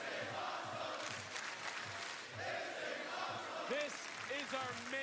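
A live arena crowd at the WWE NXT Vengeance Day 2025 women's main event chants and cheers in a low, distant roar, with rhythmic pulses, while a commentator talks over it.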